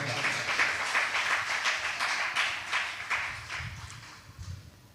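A church congregation applauds in praise of God, a crowd's rapid scattered clapping that holds steady for a few seconds and then fades.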